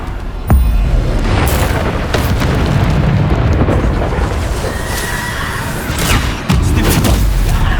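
Bombarda blasting spells fired in the video game Hogwarts Legacy, loud rumbling booms and bursts layered over continuous battle noise, with sharp impacts near the start and again toward the end.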